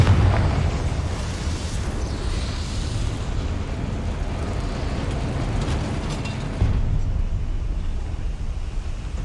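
A Confringo fire spell blast in the video game Hogwarts Legacy: a dense, loud roaring rumble that fills the whole stretch, swelling again briefly near the end.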